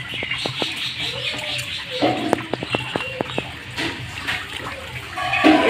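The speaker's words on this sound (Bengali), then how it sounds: "আমরা দুজনে মিলে এটাকে এখন ধুয়ে নেব।" Potatoes being scrubbed by hand in water for homemade chips: close splashing and sloshing with sharp knocks as they bump together, and a faint voice in the background.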